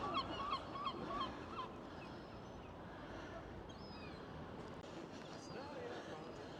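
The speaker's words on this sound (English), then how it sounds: "Listen to those seagulls." Seagulls calling around Whitby harbour on a busy morning, a few honking cries that are loudest at the start, then fainter scattered calls over steady harbour ambience and murmuring people.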